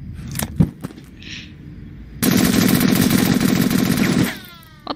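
Sustained burst of rifle gunfire in the Henry Stickmin Collection game, a loud rapid automatic rattle lasting about two seconds mid-clip, preceded by scattered clicks and thumps and followed by a ringing metallic tail.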